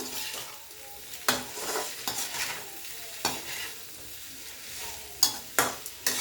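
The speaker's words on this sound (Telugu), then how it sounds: "ఇది మొత్తం సిమ్లోనే వేగాలండి. ఇందులో పచ్చంతా పోయే వరకు మూత పెట్టకుండా వేగించుకోవాలి." Bitter gourd pieces frying uncovered on a low flame give a soft continuous sizzle, punctuated by sharp, irregular scraping strokes of a spatula against the pan, with no talk.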